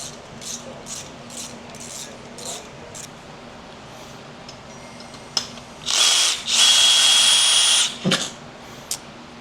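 A power drill backs out screws from aluminum on a 2011 Harley-Davidson Dyna Super Glide, with several short whirs, then two longer loud bursts and a final brief spin, surrounded by faint clinks.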